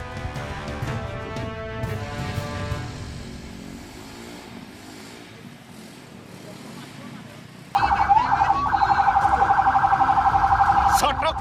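A fire engine siren wails amid dense carnival crowds and traffic in a Jember village, loud and steady from about eight seconds on, after a stretch of muddled street noise and music.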